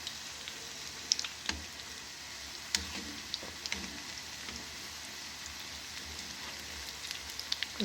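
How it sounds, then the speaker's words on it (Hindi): Dahi bade vadas, small lentil fritters, frying in hot oil: a faint, steady crackling sizzle with scattered tiny pops, heard alone with no talk. "गोली गोली से छोटे छोटे से बड़े हमारे फ्राई हो रहे हैं"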